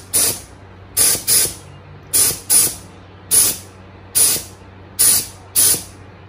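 Short bursts of a spray can hiss as a light first dusting of paint goes onto Porsche Boxster 986 wheels: nine sharp, evenly spaced puffs, some in quick pairs, with quiet gaps between.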